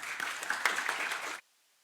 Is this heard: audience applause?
yes